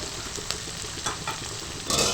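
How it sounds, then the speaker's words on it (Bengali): Potato pieces with salt and turmeric sizzle steadily in hot oil while being stirred, a dense close frying hiss with soft scraping strokes of the spoon and no voices. "লবণ আর হলুদ দিয়ে আলুটাকে কিন্তু ভালো করে একটু নাড়াচাড়া করে ভেজে নেবো"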